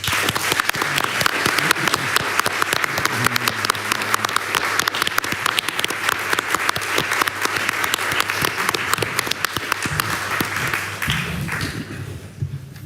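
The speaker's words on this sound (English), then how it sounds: "I would say give a lot of applause to Azu Nwagbogu, to Lisette Ros, Marlijn Geu" Sustained applause from a large audience, dense clapping at steady loudness for about eleven seconds before quickly fading out.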